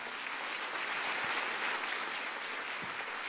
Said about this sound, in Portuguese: Vamos aplaudir bem forte ao Rei da Glória